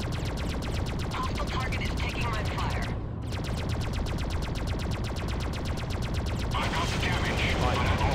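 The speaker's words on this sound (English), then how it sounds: "Enemies firing" Rapid enemy gunfire from the 2003 PC space combat game Freelancer, dense repeated shots rattling steadily and loud throughout, with a brief break partway through before the firing resumes.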